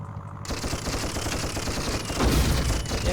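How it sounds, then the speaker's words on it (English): Enemy gunfire aimed at the player in Toy Commander on the Dreamcast: a dense, continuous rattle of rapid shots that runs through the whole stretch and grows louder toward the end. "that thing's shooting at me"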